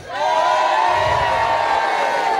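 Crowd at a strongman competition roaring and cheering loudly and continuously, a dense sustained wall of voices with whoops rising through it.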